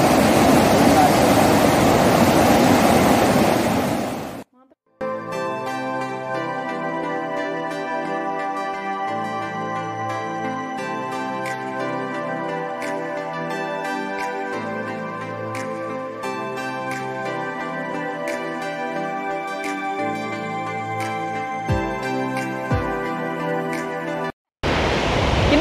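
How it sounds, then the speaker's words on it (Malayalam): Branches of the Periyar river at Paniyeli surge and crash over rocks in a loud, broad roar for about four seconds. The roar cuts off abruptly, and steady music plays alone for the rest of the clip. "കൈവഴികൾ പാണിയേലിയിൽ വന്ന് പാറകളുമായി മല്ലിടിച്ച് പോരുണ്ടാക്കുന്നത് കൊണ്ടാണ്"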